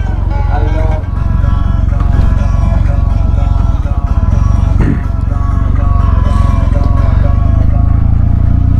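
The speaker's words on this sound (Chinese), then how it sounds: "原厂排气管基本上就已经有声音了" An air-cooled Kawasaki W800 with its stock exhaust rumbles close by in a low, steady throb, while a person talks over it for most of the clip.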